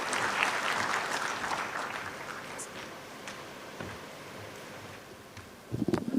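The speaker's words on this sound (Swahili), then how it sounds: "Tumkaribishe gavana wetu kwa makofi tafadhali" An audience claps to welcome a governor at a formal gathering. The applause starts dense and close, then gradually thins and fades, with a brief burst of noise at the very end.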